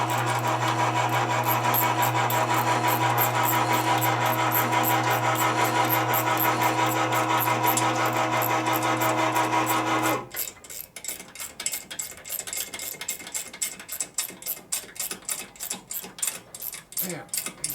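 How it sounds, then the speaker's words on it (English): A small quarter-drive ratchet, ground down for clearance, tightens head bolts on a 1958 Harley panhead 74ci engine, giving a rapid run of close clicking after a long steady mechanical hum that cuts off. "this is my small ratchet I've run down the OD for clearance, and that's how I tighten the bolts up"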